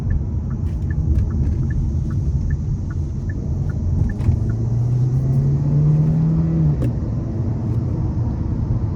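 Steady engine rumble inside a 2024 Hyundai Elantra Hybrid Limited in sport mode, rising in pitch as it accelerates hard onto an interstate, with a low whine climbing midway before a shift; no talking.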